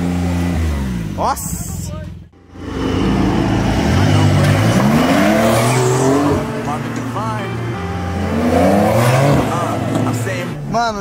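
A Porsche engine revving hard to its limit with tires squealing, a loud, close, wavering roar of rising and falling revs and tire screech. Excited voices talk over it.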